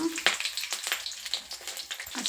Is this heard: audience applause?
no